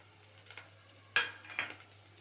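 Whole pulao spices fry in a pan over a faint background sizzle, broken by two brief scraping stirs close by, about half a second apart.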